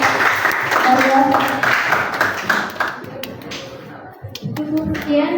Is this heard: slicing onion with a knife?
no